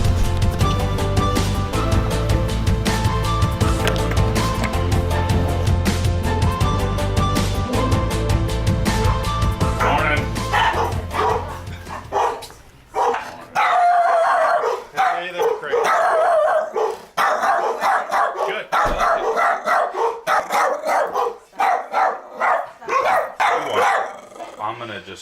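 A small dog barks in rapid, sharp bursts, loud and close, after a stretch of music; yips and growls mix in, and people talk between the barks.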